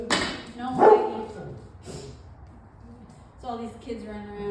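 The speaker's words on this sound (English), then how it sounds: "It's confusing the dogs." Several dogs bark in short bursts at moderate distance, with scattered yips, while someone talks nearby during an outdoor workout with costumed kids running around on Halloween.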